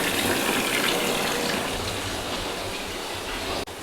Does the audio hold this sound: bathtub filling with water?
yes